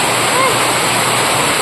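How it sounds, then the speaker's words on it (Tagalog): Heavy rain pouring down in a dense, constant roar of water, loud and close, with a brief faint voice-like tone near the start. "kasi ang lakas ng ulan"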